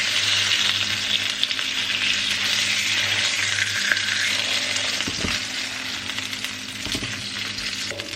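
Food glazed with honey fries in extra virgin olive oil, giving a loud, continuous hiss and sizzle with a couple of soft clinks partway through.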